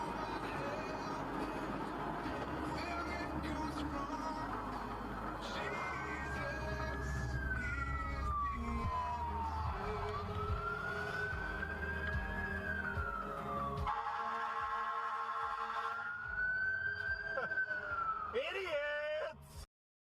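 An emergency vehicle siren wails in rising and falling sweeps through busy road traffic. The siren is fairly loud and continuous, with a brief burst of yelp near the end, while voices talk over the noise.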